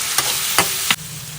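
Ground pork fries in a pan with a loud, close sizzle, punctuated by three scraping stirs in a steady rhythm before the frying noise drops to a quieter hiss.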